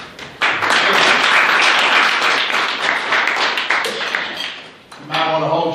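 An audience breaks into loud applause, a dense burst of clapping that swells, sustains and dips slightly before a short renewed surge, with voices mixed in near the end.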